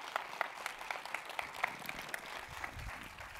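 Scattered, fairly light applause from an audience at an institutional round-table event as panel guests walk onto the stage, individual claps distinct and uneven rather than a dense roar.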